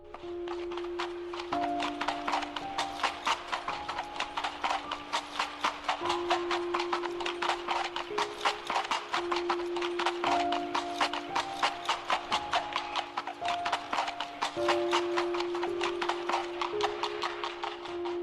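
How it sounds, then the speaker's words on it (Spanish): Horse hooves clip-clop steadily in a regular walking rhythm as a sound effect, staying clear and fairly close throughout, with sustained musical tones underneath. "escuchó cómo se acercaba el sonido de los cascos de un caballo"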